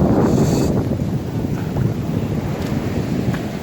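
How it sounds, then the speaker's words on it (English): Strong storm wind roaring across a microphone on a beach at night while big sea waves pound the shore, a loud continuous rushing wash with no voices. "I don't know if you'll hear me over the wind and the sand, the sea"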